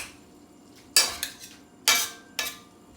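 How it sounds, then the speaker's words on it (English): Tagliolini aglio olio e peperoncino with artichoke tossed in a skillet using a spoon and fork, four crisp metallic scraping clatters in an uneven rhythm, close and clear with no talk. "Just continue to toss. Using the spoon and the fork is real old school."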